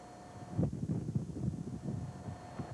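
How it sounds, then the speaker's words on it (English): Strong wind buffets the microphone in low, gusty rumbles, rising and falling unevenly over a faint steady hum. "It's so windy."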